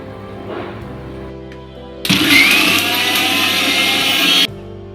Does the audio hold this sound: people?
no